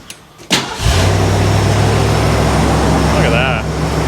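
A 1975 Bricklin SV-1 engine roars loud and close through a burnout on a snowy drive, starting with a sharp burst and then holding a steady, heavy rumble with a whining rise near the end.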